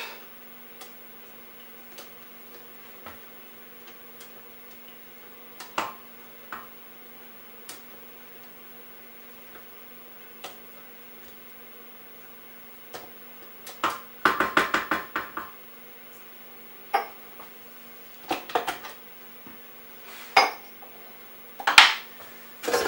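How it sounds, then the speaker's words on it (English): Electric mixer beaters being scraped clean with a utensil while making a Pauley cake, heard as scattered light metallic ticks and knocks, then denser bursts of scraping clatter near the end, close and fairly quiet with no talking. "And now we scrape the beaters."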